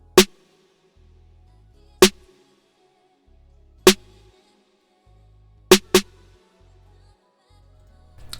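Five sharp snare hits from an R&B beat ring out alone with clear gaps between them, the last two landing close together in quick succession.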